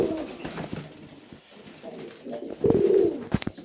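Tippler pigeons cooing in a loft, soft low throaty coos repeating close by, with a short flutter of wings near the end.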